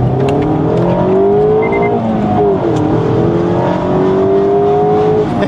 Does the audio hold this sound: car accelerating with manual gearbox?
yes